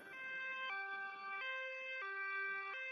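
A cartoon ambulance siren wails alone in a clear two-tone pattern, alternating high and low pitches about every three-quarters of a second, steady and fairly loud.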